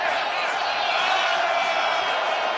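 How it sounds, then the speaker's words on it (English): A stadium crowd roars at an NFL game in Munich between the New York Giants and Carolina Panthers, a steady, loud, broadband wash of cheering sustained throughout. "Now the crowd is erupting"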